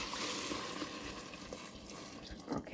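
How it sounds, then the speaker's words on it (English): Hot water poured from a pot into a vegetable mix, a soft steady splashing and trickle, faint and close, with no talking. "let's pour this water into our veggie mix."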